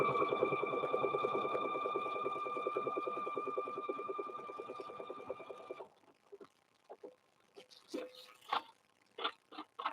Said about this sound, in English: So this thing sews through 16 layers, Miss Donna.